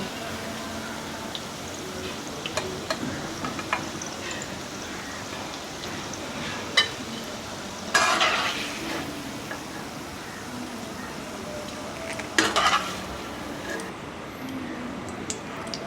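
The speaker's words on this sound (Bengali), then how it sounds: "এবার আমি এগুলো এপিট এপিট করে ভালো করে ভেজে নেব" Steady crackling sizzle of soybean chunks frying in oil, with occasional louder bursts and clinks as pieces are turned.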